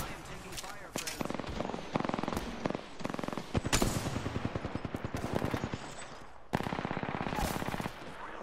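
Gunfire in a battle royale video game, with rapid bursts of automatic fire and single shots crackling loudly in repeated volleys, one nearly continuous stretch in the middle and another near the end.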